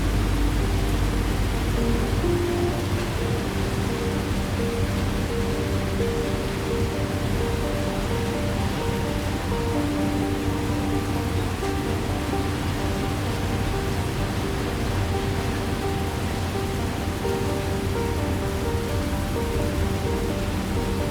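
Steady rain falls at night around a vintage British steam train, a continuous even hiss lasting throughout with a low droning hum beneath it and no voices.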